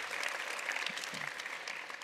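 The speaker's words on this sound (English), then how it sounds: "let's give her a round of applause." A dense, steady patter of audience applause for an award recipient at an invention awards event, moderately quiet and continuous without distinct individual claps.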